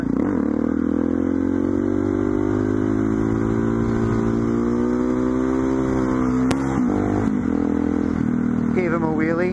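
Motorcycle engine held at a steady revving drone through a wheelie in a parking lot, loud and close throughout, with a brief clatter and a rising rev near the end.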